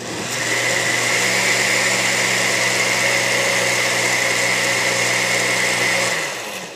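An electric mixer whirs steadily as it churns a cabbage slurry for sauerkraut, a loud constant high-pitched motor drone that holds for about six seconds and then winds down, with no talking.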